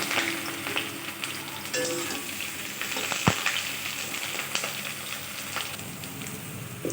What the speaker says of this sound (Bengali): এবার আমি বেগুনটা আগে ভেজে নেব